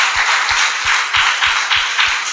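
A church congregation clapping in a steady rhythm, about seven sharp claps evenly spaced, loud and close, with a faint wash of room noise between beats.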